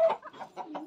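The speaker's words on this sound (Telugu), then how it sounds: "ఇదిగోండి కోళ్ళు, మన కోళ్ళు చూడండి గింజలు తింటున్నాయి" Chickens eating grain give a brief burst of close clucks, a few quick soft calls in under a second.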